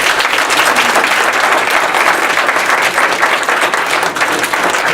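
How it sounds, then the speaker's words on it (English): An audience at a library commission seat candidate forum gives a loud, sustained round of applause that stays thick and steady from start to finish. "let's give them a round of applause"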